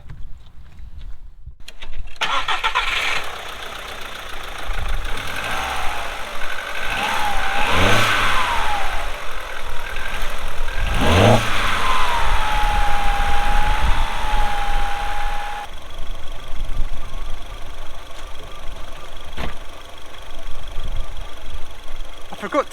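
Audi A2 1.6 FSI petrol engine cranks, starts and settles into a steady idle with a few revs, loud and close throughout, with a brief siren-like tone sounding for a while midway.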